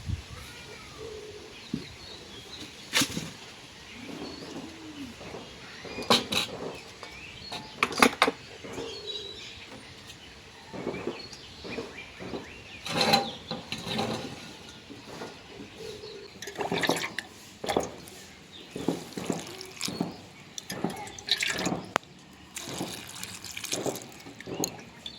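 Jujube berries washed by hand in water for a pickle, with intermittent splashes, trickles and sloshing bursts scattered across the span, fairly close, no speech.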